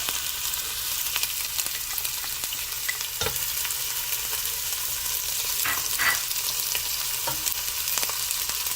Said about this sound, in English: let's saute a little bit